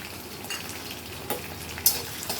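Small chopped potatoes sauté in a pan for a morning breakfast dish, giving a steady soft sizzle with a few stirring scrapes and clinks close by, with no talking.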